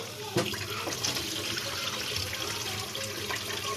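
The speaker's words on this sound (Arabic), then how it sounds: "بغسل الرز اهو، ادي غسلته اهو وهصفيه من الميه" Rice being rinsed in water and drained, with a steady running, splashing wash close by that continues throughout, while a voice speaks faintly under it.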